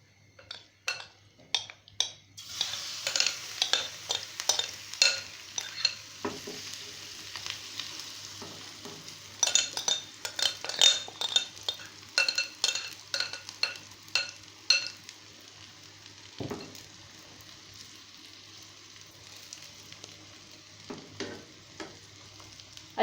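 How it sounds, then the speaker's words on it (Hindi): Egg mixture with cabbage for an omelette fries in hot oil, a close crackling sizzle broken by many sharp scrapes and taps of a spatula against the pan, irregular and busy, without voices. "अब हम इसमें अपना अंडे का मिक्सचर डाल देंगे।"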